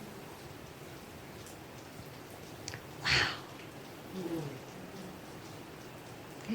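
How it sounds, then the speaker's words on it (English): First rain of the season falls softly as a faint, steady patter and hiss in the distance, broken by one brief exclaimed word from a speaker partway through. "it's the first rain of the season"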